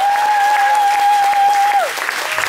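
Concert audience at a show in Japan applauding, a loud dense wash of clapping and crowd noise with a sustained feedback-like tone ringing over it before it fades.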